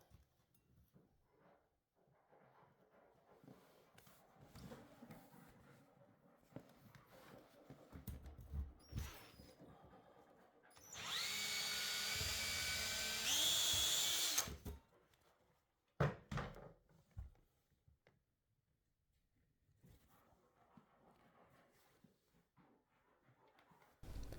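A loud, steady grinding whir of a hole saw cutting through material for about four seconds, with quieter handling knocks and taps before and after.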